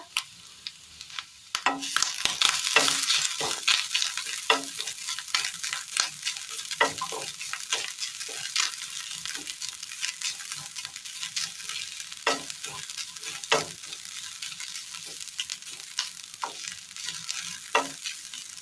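Grated coconut roasting in a little oil with chopped shallots, a steady sizzle broken by repeated scraping strokes of a spoon stirring in the pan, close and fairly loud.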